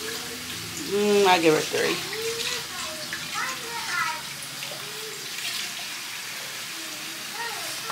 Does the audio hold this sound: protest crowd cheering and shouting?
no